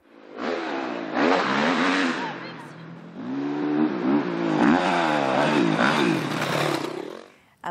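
Several motorcycles rev hard in repeated rising and falling bursts, loud and close, with engine pitch sweeping up and down for several seconds before cutting off.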